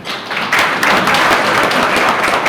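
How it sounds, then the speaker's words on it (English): An audience at a banking and finance institute graduation claps, the sound swelling quickly into a dense, loud patter of many hands that holds steady to the end. "This is when we clap."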